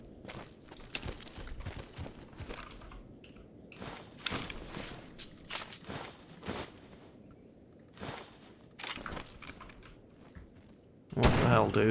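Scattered gunshots in the video game Escape From Pripyat near a mercenary camp, sharp cracks at irregular intervals against quiet ambience, mixed with footsteps and a louder burst at the end.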